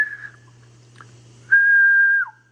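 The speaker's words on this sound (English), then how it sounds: "If I give it a whistle, it might go to almost a kilowatt here." A person whistles into the microphone of a vintage Heathkit Marauder HX-10 amateur radio transmitter: a short whistle, a brief pause, then a single long steady tone ending in a falling slide, over a faint low hum.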